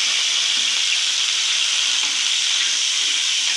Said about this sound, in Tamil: பூண்டையும் போட்டு நல்லா வதக்கிக்கலாம்.